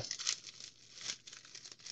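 Blade slicing and tearing through a heavy, bulky parcel's plastic and paper packaging, quiet crinkling and ripping in short close bursts.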